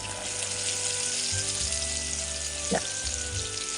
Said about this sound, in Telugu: నూనె కూడా మంచిగా వేడైంది చూసారా ఇట్లా వేడైతేనే వడలు అనేది మంచిగా వస్తుంది